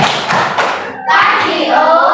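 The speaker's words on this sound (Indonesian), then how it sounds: "Kasih tepuk tangan dulu." A group of schoolchildren in a classroom claps together in a brief, close burst, with a short pause before a second louder stretch of clapping and faint voices.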